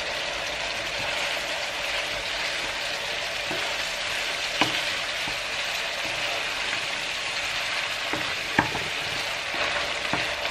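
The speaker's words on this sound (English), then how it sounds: "Let it boil for a bit so you reduce the liquid" A pan sauce with stock cubes bubbling on the stove to reduce, a steady close sizzle and simmer with occasional sharp clicks and scrapes of utensils against the pan.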